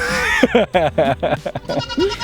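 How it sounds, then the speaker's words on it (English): Goats bleating at a goat farm, wavering cries close by that come in a rapid run of short calls across the clip. "We're at a goat farm."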